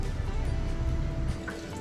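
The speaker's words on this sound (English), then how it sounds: "and you'll hear the water pump to start circulating." Coolant circulating through the water pump of a BMW 528i F10 during thermostat replacement: a low, steady rumble with faint trickling and dripping liquid, quiet and close.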